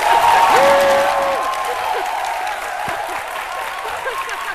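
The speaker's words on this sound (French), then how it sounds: "joignez-vous à eux et applaudissez-vous" Studio audience applauding on a live midday TV talk show, a steady wash of clapping through the whole stretch, with a voice faintly audible underneath and a tonal sound rising briefly near the start.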